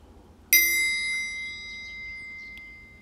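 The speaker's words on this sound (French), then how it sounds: "Vous allez, dans quelques instants, entendre une cloche tintée indiquant le début de l'exercice." A single bell struck once to open a relaxation exercise, a bright metallic strike with a long, clear ringing tone that slowly decays over quiet background hiss.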